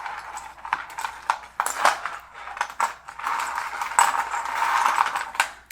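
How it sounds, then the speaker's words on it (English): Small metal charms and trinkets are mixed and tossed out for a divination reading, producing close, irregular bursts of clinking and rattling with short pauses between handfuls. "You mix them and you toss them out, and then I read into the charms"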